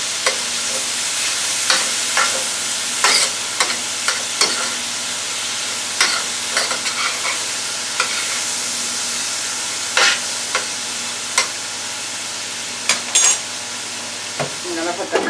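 About a tablespoon of garlic fries in a pan with a bright, continuous hiss, punctuated by regular scraping and tapping as it is stirred, close and loud.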